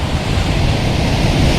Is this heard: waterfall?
yes